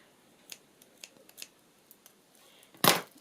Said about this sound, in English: Those little scissors aren't very sharp anymore for some reason,